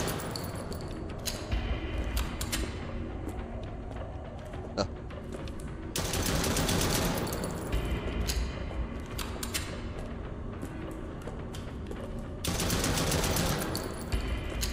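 Rapid bursts of machine gun fire in a video game, long rattling volleys that come and go in loud waves over about fifteen seconds, with a voice talking beneath them.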